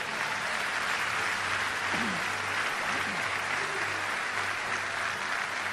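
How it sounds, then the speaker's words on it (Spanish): A church congregation applauds during a sermon, a dense unbroken roar of clapping across the whole stretch, with a low steady hum and some voices faintly audible beneath it. "Dale el aplauso a Dios."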